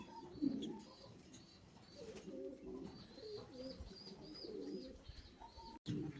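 Fancy pigeons cooing in a steady, low throaty series, several birds close by, with faint chirps and a brief rustle near the end.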